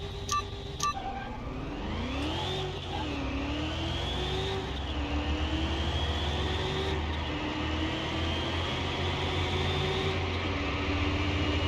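A car engine in Car Mechanic Simulator 2021 revs and climbs through the gears with audible pitch drops at each shift, then holds a steady high drone near redline, loud and close throughout.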